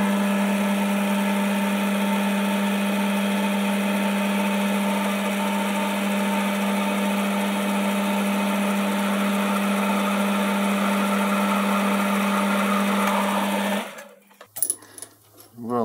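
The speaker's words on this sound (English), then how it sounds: "So now I want to drill this and bore it out 20mm" A lathe drills and bores a metal part for a cam vice handle, a steady machine whine with harmonic tones running loud and continuous before cutting off near the end into brief clatter.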